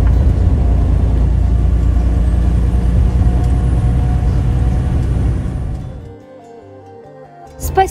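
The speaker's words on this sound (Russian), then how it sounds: "Видео, как всегда, записывалось во время движения грузовика." Cab of a moving truck driving in Minnesota, a loud steady low engine and road rumble that drops away near the end as the truck slows, with a short burst at the close.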